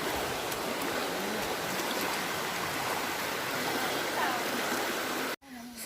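Continuous rushing water of a stream or river crossing on a trail toward waterfalls, loud and steady throughout before cutting out briefly near the end.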